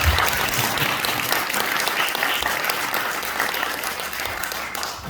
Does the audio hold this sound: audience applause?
yes